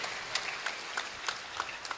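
Soft, somewhat distant applause from a gathering of high school students at a university rector's address, a steady wash of clapping with a few more prominent individual claps standing out.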